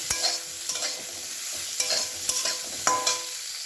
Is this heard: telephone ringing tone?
no